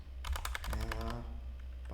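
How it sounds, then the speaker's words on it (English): Someone types on a computer keyboard in a quick, close burst of keystrokes that then trails off into a quiet background hum. "I'm not good at typing skill, that's why I'm looking down my keyboard."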